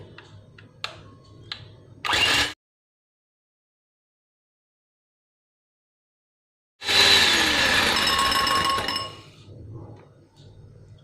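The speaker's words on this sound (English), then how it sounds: "I'm going to whisk it. This is going to be noisy. Whisk it till it is white and stiff." Egg whites whisked in a bowl until white and stiff for a peach upside-down cake. Two loud bursts of rattling, clinking whisking are split by a long silent gap, with faint kitchen handling at the start and end.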